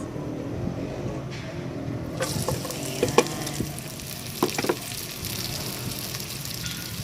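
Garlic and onion frying in a hot casserole pot for Kapampangan dinuguan, a steady close sizzle with a few sharp stirring clinks against the pot, no voices.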